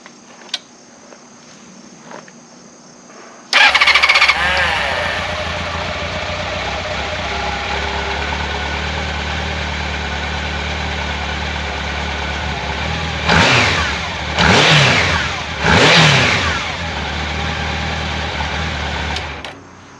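A Honda CB750 Nighthawk motorcycle engine starts abruptly and settles into a smooth steady idle, then revs sharply three times in quick bursts before dropping back to idle.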